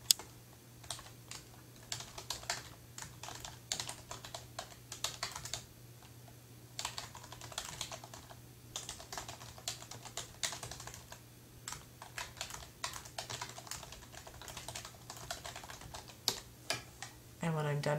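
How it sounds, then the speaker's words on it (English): Rapid, uneven keystrokes on a computer keyboard while entering a date into a Prezi screencast, close and fairly quiet, clicking in bursts with short pauses across the whole stretch. "I type the date"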